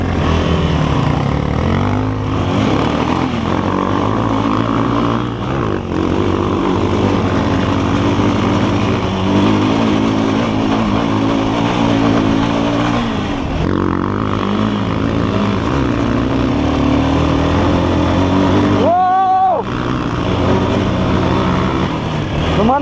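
Honda Hornet motorcycles accelerate on a damp, partly unpaved road, with a loud, close engine roar that stays steady throughout and rises and falls in pitch with the throttle.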